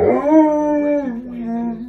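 An Alaskan Malamute howls in a long, wavering, mournful tone that slides downward and then holds, close and loud, with a brief break before continuing.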